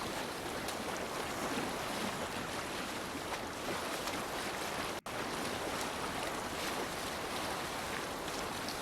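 A boat moving along a river in the video game Assassin's Creed Valhalla, a steady wash of water and wind rushing past, even and continuous with one tiny dropout midway.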